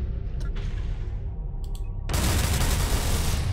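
Space combat in Astrox Imperium with a Kith 60mm projectile weapon: a few faint pops, then a sudden, sustained roaring barrage of fire that stays loud to the end.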